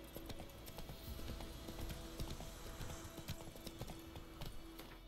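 A horse's hooves clip-clop at a steady walking rhythm in The Witcher 3 video game, faint but clear and even, continuing throughout with no one talking.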